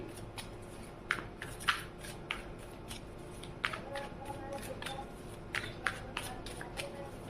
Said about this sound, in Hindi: तो चलिए हम कार्ड शफल करते हैं 2 more टाइम।